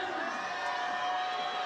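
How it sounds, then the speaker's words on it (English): Crowd at a Salt Lake City 2022 bouldering final shouts and cheers steadily for a climber on the wall, a dense continuous roar of many voices with whoops, loud and sustained throughout. "You can hear the crowd shouting for her."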